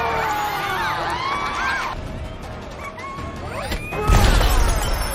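Film scene where glass shatters and shards rain down on a crowd, bright crashing and tinkling debris under cheering and shouting voices, with a louder burst of crowd noise near the end.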